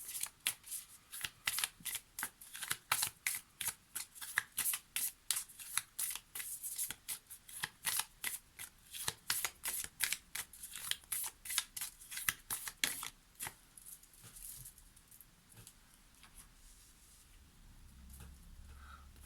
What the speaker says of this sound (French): on va prendre notre dernière carte pour le tirage du jour avec l'oracle de la présence animale